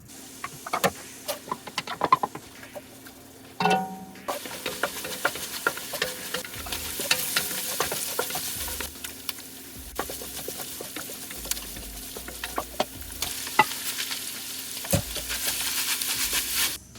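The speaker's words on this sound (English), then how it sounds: "now it's time to put in the onion. Cook that up for a little bit" Chopped onion frying in a pan, a continuous soft sizzle broken by frequent sharp clicks and clatters of a utensil stirring against the pan, close and with no talking.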